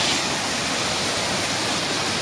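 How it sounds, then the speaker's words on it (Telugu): The Kotha Palli waterfall gives a steady, close, unbroken roar of rushing water with no speech over it. "వాటర్ ఫాల్ అబ్బాబ్బాబ్బా, జలపాతం అంటే మామూలు జలపాతం కాదు"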